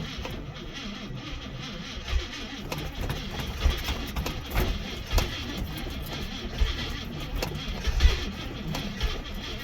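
An International truck engine runs rough after a cold start in a snowbank, a steady low rumble with uneven irregular knocks and surges throughout, fairly close.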